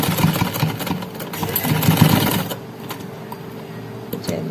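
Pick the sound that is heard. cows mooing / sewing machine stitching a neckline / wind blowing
sewing machine stitching a neckline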